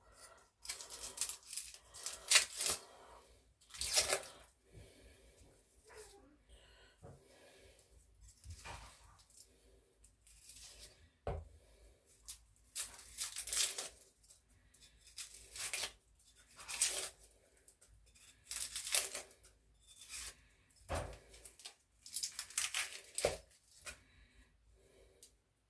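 Knife snipping through dry onion peels in a home kitchen, a run of sharp crackly cuts and papery tearing in bursts, close and fairly loud, with no talking.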